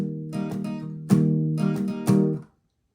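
Acoustic guitar strums ring in a few strong chords, then the strings are muted all together by the palm, cutting the sound off abruptly into silence.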